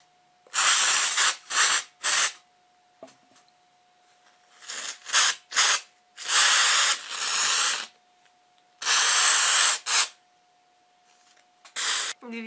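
An aerosol can of artificial snow sprays in repeated sharp hissing bursts of varying length, close and loud, separated by short pauses while a thin steady tone hums underneath; the can is used to decorate a Christmas wreath.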